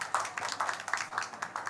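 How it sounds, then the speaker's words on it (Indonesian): A small audience at a café talk claps briefly and lightly, scattered hand claps at a quiet distance, with no voices. "Boleh tepuk tangan?"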